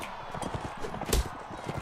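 Horse hooves clip-clop during a siege in Mount & Blade: Warband, a steady run of mid-loud hoofbeats with battle noise behind them and no talking.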